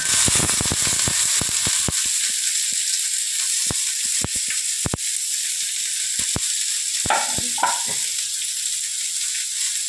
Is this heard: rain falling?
no